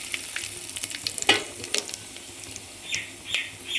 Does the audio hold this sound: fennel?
yes